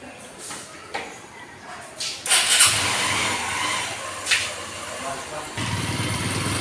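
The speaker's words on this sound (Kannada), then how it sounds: "ಇವಾಗ ಹೋಗ್ತಾ ಇದ್ದೀವಿ ಬೈಕಲ್ಲಿ" Motorcycle ride at night on the way to shopping, its engine a steady medium drone that swells and rises partway through, with talk over it.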